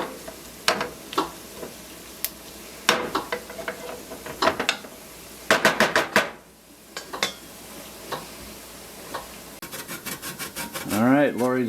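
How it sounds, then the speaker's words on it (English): A lemon rubbed against a zester, giving bursts of short, scratchy rasping strokes that come close together in uneven runs with pauses between, near and fairly loud, with no voices. "Lori's much better at the zest of lemon than I am, so she's doing the zest of lemon."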